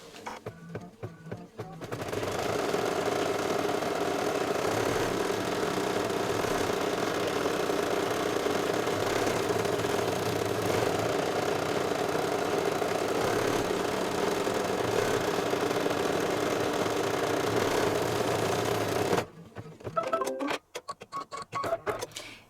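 Embroidery machine stitching the top of an oven mitt potholder pad body, a steady rapid mechanical chatter running continuously for about seventeen seconds, with short quieter handling noises before and after.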